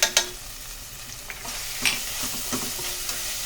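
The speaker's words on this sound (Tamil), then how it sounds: "ஒரு 2 நிமிஷம் அந்த மிளகாத்தூளும் மஞ்சத்தூளும் இந்த எண்ணெயில் வதங்கணும்" Onions with chili powder and turmeric being stirred and frying in hot oil for an egg curry, giving a steady soft sizzle broken by a few sharp scraping stirs of the spoon, close up with no talking.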